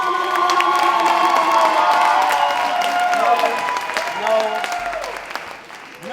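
An audience in Newark applauds and cheers for a dance performer on stage. A steady wash of clapping and crowd cheering fills the clip, with whoops and shouting voices mixed in before it eases slightly near the end.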